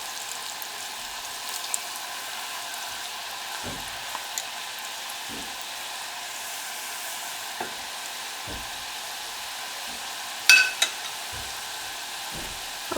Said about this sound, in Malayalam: ഒരു ഗോൾഡൻ ബ്രൗൺ ആവുന്നത് വരെ നമുക്കിത് ഫ്രൈ ചെയ്തെടുക്കണം കേട്ടോ